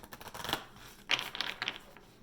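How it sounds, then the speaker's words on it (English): Tarot cards being shuffled by hand in a quiet room, heard as a few soft, papery riffling bursts spaced unevenly, close and alone with no talking. "let's do one more shuffle"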